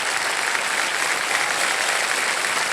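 Studio audience on the KBC quiz show set clapping for a contestant, a dense, steady wash of applause filling the whole stretch with no voices.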